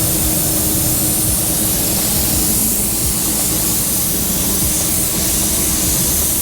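A paint spray gun fitted with a 3M fine finish nozzle blows a steady, loud rush of air over freshly laid base coat, a continuous broadband hiss without pauses or voices.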